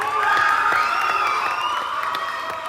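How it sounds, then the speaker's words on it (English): Concert audience at a high school summer concert cheering, whooping and applauding a singer after her first song with a mariachi, loud and sustained crowd noise with claps and shouts. "Let's give a big round of applause to Yesenia Córdoba."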